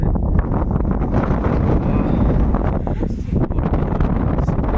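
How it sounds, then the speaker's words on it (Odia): Cold wind blowing outdoors ahead of rain, a steady rough rush of gusts buffeting close to the microphone throughout, with faint voices underneath. "ହଁ ତ ଆଜି ପବନଟା ଥଣ୍ଡା ପବନଟା କିଆଡ଼େ ଗୋଟେ ବର୍ଷା ହେଉଛି"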